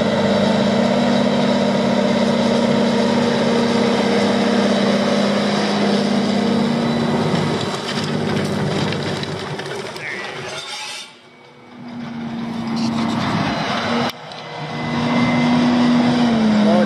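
A tractor engine pulling a disc harrow: a loud, steady drone with a heavy hum, running continuously close by, briefly dipping before roaring back.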